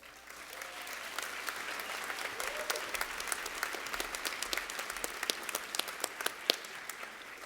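A graduation ceremony audience at Freedom High School applauds, a dense steady patter of many hands clapping with sharper individual claps popping out, sustained for several seconds and filling the hall.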